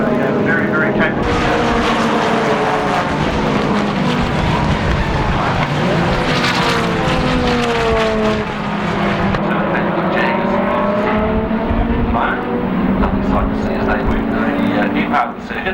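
Classic race cars at the 1996 Skope Classic on the Ruapuna circuit, engines roaring loud and steady as they pass, with a commentator talking over them.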